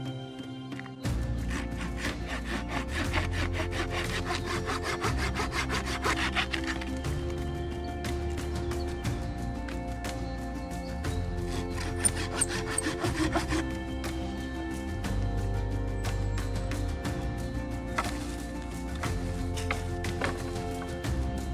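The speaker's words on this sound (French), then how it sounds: "il est temps de prendre une scie et de chercher des branches" A hand saw works through thick wooden branches in the woods, steady rhythmic back-and-forth rasping strokes, close and continuous, with brief pauses between cuts.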